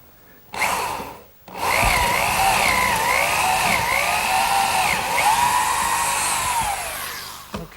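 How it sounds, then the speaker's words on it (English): An electric drill with a 3/8 inch brad point bit bores dowel holes through a wooden tenon and mortise for a garden bench, spinning up in a short burst, pausing, then whining steadily with shifting pitch as it cuts. "for those dowels I'm going to use a 3/8 inch brad point bit"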